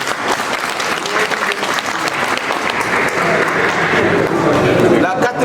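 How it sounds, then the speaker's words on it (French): Sustained applause from an assembly adopting a motion by acclamation at a general electoral meeting, dense steady clapping filling the room for several seconds and swelling slightly toward the end. "on l'adopte par acclamation."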